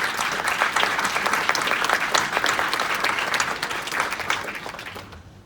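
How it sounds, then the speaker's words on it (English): Audience applause at a mental health talk to young people, thick and continuous clapping from a sizable crowd that stays strong for about five seconds before fading out at the end. "And I applaud you all for that."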